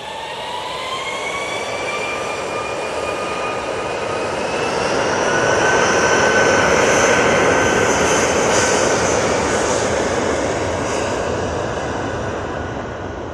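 An SAS jet airliner takes off from Manchester Airport, its engines a loud sustained roar that swells to a peak midway and then eases as it climbs away, with a high whine over it.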